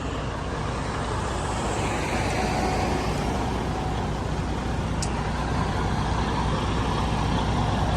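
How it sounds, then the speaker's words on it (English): A Freightliner truck's engine idles while warming up on a morning, a steady, close, unbroken rumble and hiss for the whole stretch with no voices. "Getting the truck all dialed in right now, or warmed up."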